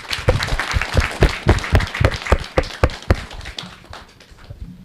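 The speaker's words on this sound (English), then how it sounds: "Let's clap for them." A small audience at a youth program event claps for participants, with sharp, uneven individual claps that cluster loudly for a few seconds, then thin out and fade.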